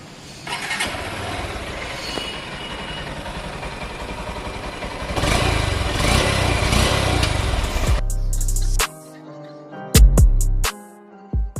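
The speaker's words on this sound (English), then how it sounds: "let's check out the exhaust note of the bike" A 2020 BS6 Honda X-Blade motorcycle engine runs with a steady exhaust drone that rises louder midway, then cuts out abruptly, leaving a few sharp clicks and knocks.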